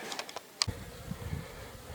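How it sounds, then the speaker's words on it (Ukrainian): Honey bees leave the hive on their first spring flight on a cloudy, cold day. Faint buzzing and brief wing hums sound close by after a sharp click. "Ну ось і перші. Перший обліт у бджолок."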